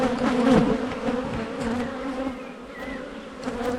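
A dense, steady drone of many honey bees buzzing close by at an open hive, with individual insects whining past over the low hum.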